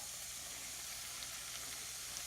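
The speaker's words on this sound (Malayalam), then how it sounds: "കക്ക ഇറച്ചി ചേർത്ത ഉടനെ തന്നെ നമ്മുടെ അരപ്പും കൂടെ അതിനകത്തേക്ക് ചേർത്ത്" Clam meat and coconut paste fry in a pan for a clam stir fry, giving a soft, steady sizzle and hiss throughout with no talking.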